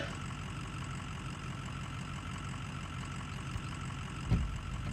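A truck engine idles and rumbles in the Spintires off-road driving game, a low steady drone with a brief thump near the end.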